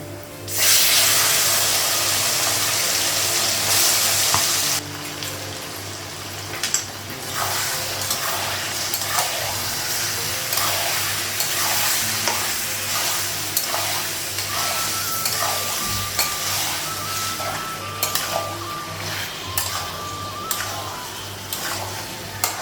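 Mutton coated in spices fries in a pan with chilli, bay leaf and whole garlic, a loud steady sizzle at first, then an ongoing crackle punctuated by scraping and clattering stirring strokes.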